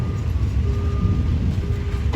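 Train passing through Surat Thani railway station on the southern line, a loud, steady low rumble of rolling wagons filling the whole stretch without any voices.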